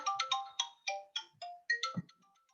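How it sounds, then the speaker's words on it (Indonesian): A phone ringtone for an incoming call plays a bright electronic melody of quick repeated tones, clear and fairly close, with no talking over it. "ada telepon"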